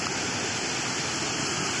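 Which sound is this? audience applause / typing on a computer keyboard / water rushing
water rushing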